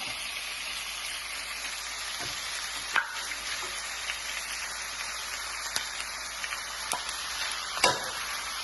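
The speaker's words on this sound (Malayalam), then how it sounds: "നമുക്കിത് ചിക്കനും കൂടി ഇതിലേക്ക് ചേർത്ത് കൊടുക്കാം" Chicken sizzles in hot oil in a pan with sautéed spices for a Kerala-style chicken stew, a steady close frying hiss with a few sharp clicks and scrapes from stirring and no talking.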